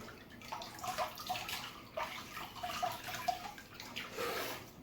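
Running water splashes and gurgles while a razor is rinsed during a shave, a soft, uneven wash with small clinks and drips, fairly close but quiet.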